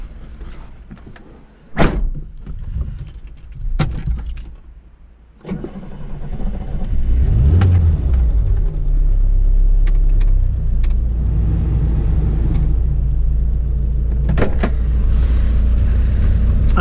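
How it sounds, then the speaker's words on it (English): A 1985 Toyota Corolla II SR AL21 with an exhaust leak and a rattling exhaust: a door thuds and the engine starts, then it settles into a steady, loud, close drone that carries on without talk. "It does have an exhaust leak as well, and the exhaust does rattle, but this is it running."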